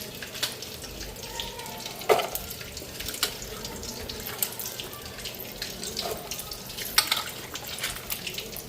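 Vegetables rinsed under a running kitchen tap, with a steady hiss of water, irregular splashes and clinks of handling and a few sharper knocks.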